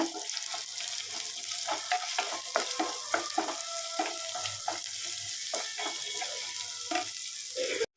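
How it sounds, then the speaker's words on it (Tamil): Continuous sizzling of onions sautéing in hot oil for egg curry, with occasional stirring scrapes and clicks, close up and without speech. "சேர்த்து நல்லா அந்த எண்ணெயில் நல்லா வதக்கிக்கோங்க"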